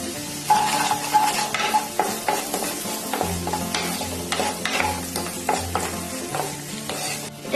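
Vegetables stir-fry in a pan for Bengali-style veg fried rice, a steady close sizzle broken by repeated scraping and stirring strokes of a spatula against the metal, with no talking.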